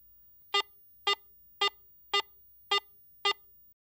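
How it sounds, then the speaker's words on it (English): Garrett AT Pro metal detector sounding its medium tone in standard mode: six identical short electronic beeps evenly spaced about half a second apart, clear and alone against near silence. "Listen to the medium tone in standard mode"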